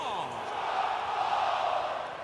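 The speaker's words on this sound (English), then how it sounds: "Listen to this crowd, guys." Arena crowd in the WWE 2K20 wrestling video game, a steady, loud wash of cheering and crowd noise that carries on without a break.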